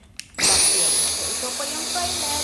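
A vacuum cleaner cleaning a study room starts up abruptly and then runs as a loud, steady, close whine with a whooshing airflow.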